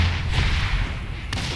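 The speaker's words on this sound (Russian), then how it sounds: "Да что там взрывается все?" Explosions in the video game Saints Row IV give a loud, continuous booming rumble with heavy low-end weight, plus a sharper blast near the end.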